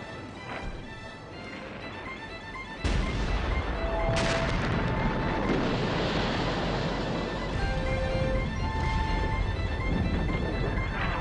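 Massive German artillery barrage on British lines in March 1918, a continuous rumbling roar of distant shellfire with deep booms rolling together like surf, steady and heavy throughout.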